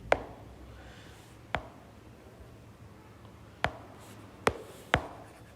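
Faint scratching of a pen on paper while a math problem is written out by hand, with a few sharp taps scattered through the quiet.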